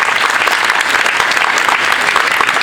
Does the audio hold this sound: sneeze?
no